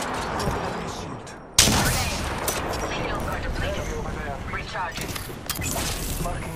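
A loud close gunshot bursts in from Apex Legends, followed by continuing rapid fire and cracks in a firefight, with a voice talking briefly.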